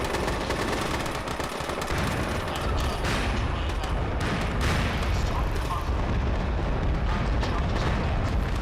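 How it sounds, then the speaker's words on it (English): Heavy explosions and rumbling combat blasts from a bunker being destroyed in Uncharted 2, a PlayStation action game, forming a loud, continuous wall of booms and gunfire-like bursts throughout, with a commentator speaking over it. "So now that they've managed to destroy that bunker"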